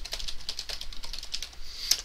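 Typing on a computer keyboard while entering code comments, a quick, uneven run of light clicking keystrokes close by, with a few sharper taps and no voices.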